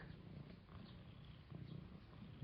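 A cat purrs softly and steadily up close, a low rhythmic rumble with quiet background noise.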